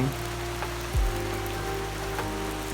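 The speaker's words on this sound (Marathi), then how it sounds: "आता आपण घरी आलो आहोत आणि पुन्हा पावसाला सुरुवात झाली आहे" Rain falls outside a home in the Konkan during August, a soft continuous patter on surfaces with a faint low hum beneath it.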